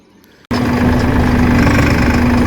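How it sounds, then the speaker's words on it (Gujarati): A tractor brought for a demo, trolley hitched behind, starts up abruptly and settles into a loud, steady idling rumble with a strong low hum, close and continuous. "આ ટ્રેક્ટર આવ્યું છે ડેમો માટે"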